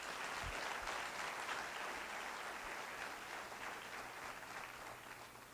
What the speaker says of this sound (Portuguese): Louve a Jesus com as suas palmas